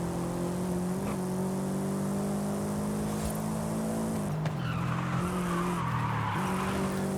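Forza Horizon 5 race car drifting through a lap, a steady droning engine under long screeching tire squeal that swells and shifts as the car slides, loud and continuous.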